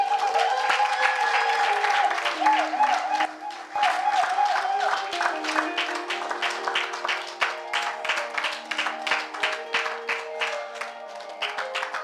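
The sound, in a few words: audience applause honouring women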